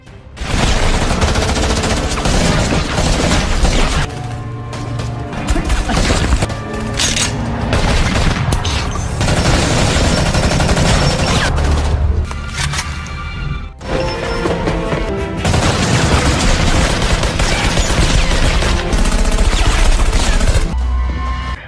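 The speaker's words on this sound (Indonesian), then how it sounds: "Lalu Payu datang langsung menyerang mereka dan mereka pun langsung saling menembak." An action-film gunfight, with loud bursts of gunfire, heavy booms and crashing impacts in rapid volleys. The shooting goes on nearly without pause, broken by a few short lulls.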